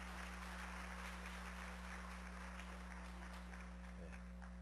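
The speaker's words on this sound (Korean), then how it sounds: "한 번 더 박수하겠습니다." Church congregation applauding during a 32nd-anniversary worship service at Augusta Methodist Church, a steady, dense wash of clapping that lasts the whole stretch over a low electrical hum.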